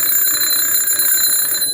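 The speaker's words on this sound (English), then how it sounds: "This bell makes a sound like this." An electric alarm bell rings steadily and loudly up close, its bright metallic clangor continuous for the full duration with no voices over it.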